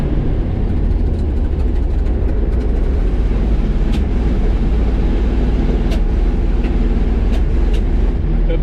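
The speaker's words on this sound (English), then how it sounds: "I'm gonna float it to 5th, and then we'll shift down to low and then go back up to high." Old farm truck engine droning steadily in fourth high while the driver floats and shifts gears, a loud continuous rumble with occasional faint clicks and no talk.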